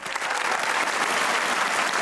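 An audience claps for young men at a poetry recital. The applause is dense and steady, filling the whole stretch at an even, full level with no voices standing out.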